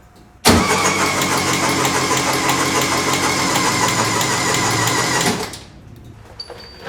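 Engine with CB Performance square port heads cranking on its starter, a steady loud whirring churn that runs close for about five seconds, then cuts off without firing.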